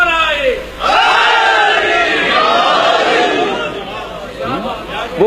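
A large crowd at an Eid-e-Ghadeer religious gathering shouts slogans in unison, a loud swelling roar of many voices that rises sharply after a brief pause and holds, then tapers with scattered cries.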